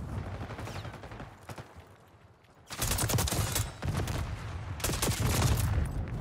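Gunfire in Call of Duty: Black Ops 6 multiplayer, a few scattered shots first, then sustained loud automatic bursts filling the latter half with brief gaps.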